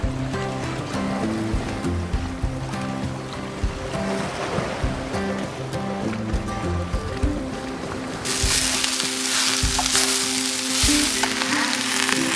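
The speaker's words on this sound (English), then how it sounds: "So I just fried up some veggie sausages, cauliflower, some brown rice from the other night, spinach, and soy sauce." Veggie sausages, cauliflower, leftover brown rice and spinach fry with soy sauce aboard a boat, a steady crackling sizzle over low rumbling water and hull noise, swelling into a louder, brighter hiss partway through.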